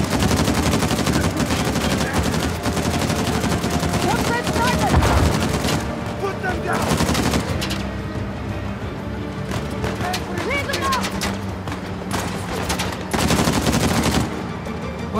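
Gunfire in the video game Uncharted: The Lost Legacy, with dense bursts of rapid automatic shots and scattered single cracks filling the whole stretch, loud and close, while a player talks over the shooting.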